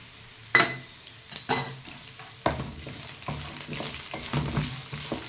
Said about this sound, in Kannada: ಇದು ಈರುಳ್ಳಿ ಸ್ವಲ್ಪ ಗೋಲ್ಡನ್ ಕಲರ್ ಬರೋವರೆಗೂ ಸ್ವಲ್ಪ ಫ್ರೈ ಮಾಡಿ